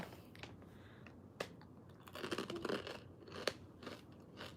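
Close, crisp crunching and chewing of spicy Thai chili paste (nam prik) with its accompaniments, a few sharp bites standing out against a quiet background, with no talking.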